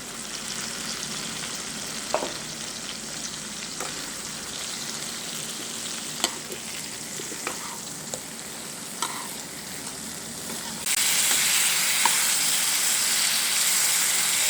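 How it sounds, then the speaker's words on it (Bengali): Brinjal pieces and spices fry in a pan with a dense, continuous crackling sizzle and occasional spatula taps, swelling suddenly louder and brighter toward the end; no voices. "এবার আমি বেগুন আর মশলা একসাথে মিশিয়ে হালকা জালে এটাকে আমি খুব ভালো করে কষিয়ে নেব।"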